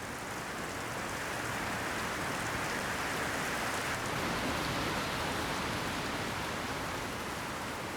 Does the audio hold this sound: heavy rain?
yes